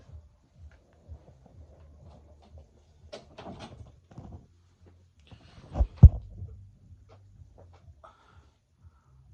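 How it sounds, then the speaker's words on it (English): A door swings shut indoors with one sharp, fairly loud thud and a short rattle, preceded by faint shuffling and soft handling noises in an otherwise quiet room. "Let me close the door."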